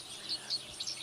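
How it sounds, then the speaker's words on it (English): Small birds tweet outdoors on a winter morning, a few short, thin high chirps spaced irregularly over a soft, steady ambient hiss. "You can hear the birds tweeting"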